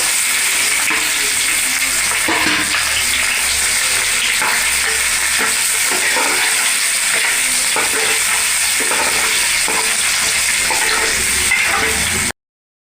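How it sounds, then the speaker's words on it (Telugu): Two large sliced onions and five slit green chillies fry in oil in a pan for a fish curry. A dense, loud sizzle holds throughout, with soft stirring scrapes now and then and no voices. "ఇవి వేసి ఫస్ట్ ఫ్రై చేసేసుకుందాం."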